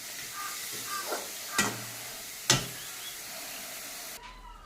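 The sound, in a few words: red amaranth greens with peanuts frying in a pan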